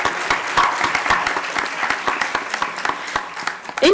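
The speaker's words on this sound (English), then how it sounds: "One more round of applause, please." Audience applause at a Carnatic violin arangetram: a steady run of many hands clapping, fairly close and sustained throughout without a break.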